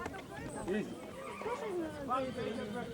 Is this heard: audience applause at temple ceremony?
no